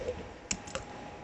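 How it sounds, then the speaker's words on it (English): A few quick keystrokes on a computer keyboard, two sharp clicks standing out over a soft steady background hum, close and fairly faint, with no talk. "by typing"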